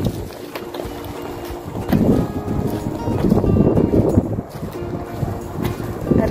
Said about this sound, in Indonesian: Bunyi anginnya kedengeran kenceng ya, guys.